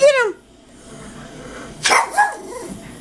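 Pugs bark: a sharp bark, then after a pause two more yips and barks follow close by, with quiet room noise between.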